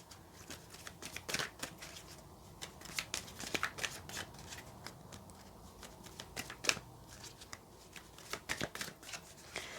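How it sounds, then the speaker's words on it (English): Continuous crisp riffling and flicking of playing cards being shuffled close by, in uneven bursts of rapid papery snaps with no talking. "If I can actually shuffle the cards"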